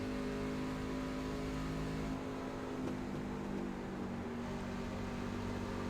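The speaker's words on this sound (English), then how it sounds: "You hear him lifting off the throttle and getting right back on it" Onboard a race truck at Indianapolis Motor Speedway, the engine drones steadily near and loud, dipping briefly as the throttle lifts off around mid-clip before coming straight back on.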